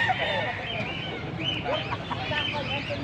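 At a chicken market in Angeles, Pampanga, in the early morning, many chickens cluck and squawk together in a busy, continuous chorus, with other birds and some faint human voices mixed in.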